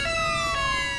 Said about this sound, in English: I'm going to turn my sirens off.